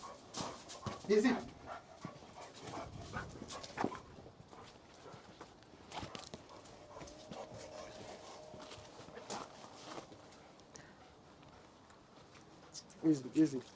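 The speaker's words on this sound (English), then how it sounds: "It's a nice dog." A dog pants and gives a few soft whimpers during a tense house eviction, faint and intermittent amid footsteps, background movement and people talking.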